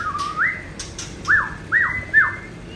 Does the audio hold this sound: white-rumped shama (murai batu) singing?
yes